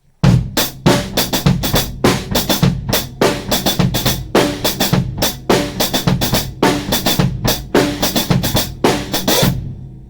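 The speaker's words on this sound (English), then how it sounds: "get some really cool sounds if I move my ghost notes away from the snare and put them on the hi-hat." Ska drum groove on a kit with ghost notes moved onto the hi-hat, loud and close, a busy steady rhythm of crisp hi-hat strokes and accented hits repeating evenly throughout.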